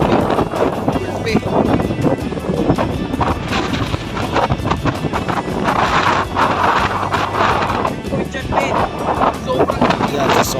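Strong wind roars and buffets loudly and continuously during a motorcycle ride, with a voice talking through it.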